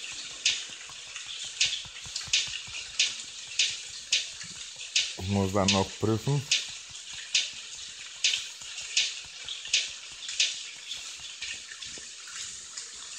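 Steady rain and water hiss in the survival video game Ocean is Home, with soft rhythmic splashes repeating every second or so. Someone speaks briefly in the middle.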